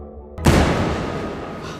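A gunshot in a film scene, one sudden loud boom after near silence, followed by a long rumbling decay that fades over the next second or so.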